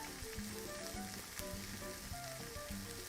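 A burger patty fries in a pan with melting cheese on top, giving a steady close sizzle with crackling pops throughout and no talk.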